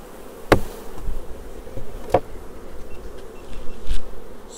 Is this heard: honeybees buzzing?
yes